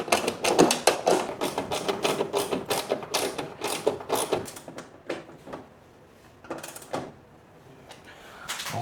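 Loosening a clamp on a truck cap canopy during installation gives a run of quick metallic taps and ratcheting clicks, close and fairly loud, which thin out into a few separate knocks near the end.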